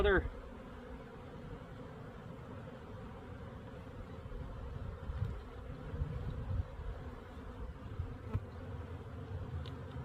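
Honeybees buzzing in a dense, steady drone while a hive is split, with soft handling knocks partway through.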